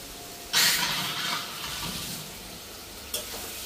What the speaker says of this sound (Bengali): শাক রান্না